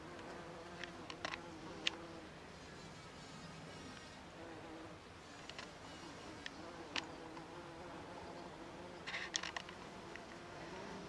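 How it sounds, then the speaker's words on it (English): A bee buzzes continuously among tomato flowers in a greenhouse, a close, steady drone that rises and falls as it moves from flower to flower, with a few faint clicks and taps. "He's been a very busy little bee in here today."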